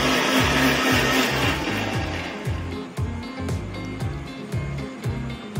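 A Lifelong Power Pro LLMG02 mixer grinder runs loud and steady while grinding fenugreek seeds, its motor droning with rhythmic pulsing churns as the seeds tumble in the jar, alone with no talk.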